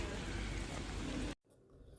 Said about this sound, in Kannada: ಮಳೆ ಬೇರೆ ಬಂತು.